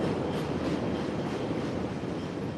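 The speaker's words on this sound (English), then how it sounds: "sorry, we're underneath the train." A train rumbles overhead on an elevated line in Chicago, a steady dense roar with faint clatter that fills the whole stretch, heard from directly underneath.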